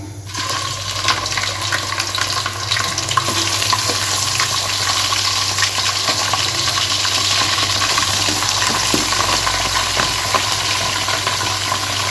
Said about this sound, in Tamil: இப்போ நம்ம இதில் அப்படியே சிக்கனை அப்படியே போட்டுக்குவோம்